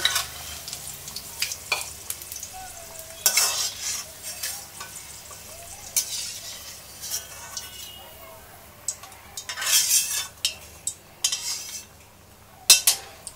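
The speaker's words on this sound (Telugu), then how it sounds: "ఇలా ప్లేట్లోకి తీసేసుకుని పక్కన పెట్టేసుకుందాం మనము" Okra curry being scooped out of a pan onto a plate after the stove is turned off, with intermittent metal spoon scrapes and clinks against the pan and plate, sharp close bursts separated by quieter gaps.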